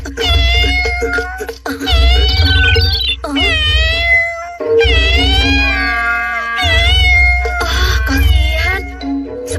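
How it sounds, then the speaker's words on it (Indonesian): A kitten meows repeatedly in clear, high, wavering cries, close and loud, with short gaps between calls over a low background hum. "Ada suara anak kucing."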